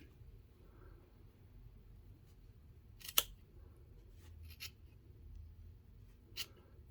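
Scissors snip through loops of crochet yarn with a few quiet, crisp clicks spaced apart, one sharper cut standing out against near silence.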